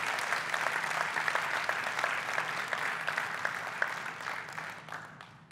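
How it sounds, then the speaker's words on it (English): Sustained applause from an audience, a dense wash of clapping that holds steady for several seconds, then gradually thins out. "let's give them a big round of applause,"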